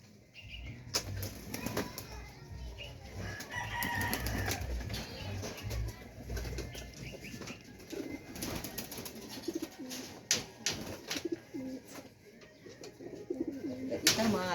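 Domestic pigeons being bathed in a loft, cooing and flapping their wings in repeated bursts close by, with a steady low rumble running underneath.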